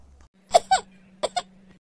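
Two pairs of short, sharp coughs close to the microphone, separated by a brief pause, over a faint steady hum.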